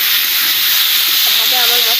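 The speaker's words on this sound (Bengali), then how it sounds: "আপনারা দেখতে পাচ্ছেন এটা কষা হচ্ছে সর্ষের তেলে" Spice paste fries in mustard oil for a prawn and potato curry, giving a loud, steady hiss of sizzling that fills the whole stretch, with faint bubbling pops toward the end.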